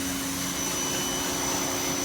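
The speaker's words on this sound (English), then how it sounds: "he is power washing as we speak, trying to get off all the dirt and grime" Close, steady roar and hiss of a pressure washer cleaning the outside of a house, unbroken and loud through the short stretch, with no voices.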